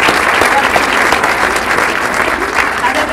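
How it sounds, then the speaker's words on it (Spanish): Church congregation applauding their pastor at a pastor's day service, loud, close, continuous clapping from a full room, steady for the whole stretch with faint voices blended underneath. "Un aplauso para él"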